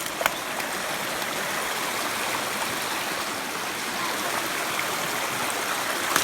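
A river stream in Jamaica flows steadily, a continuous close rushing and trickling of water with no other sounds standing out.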